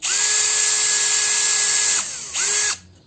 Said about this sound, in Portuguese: Vamos fazer o furo aqui.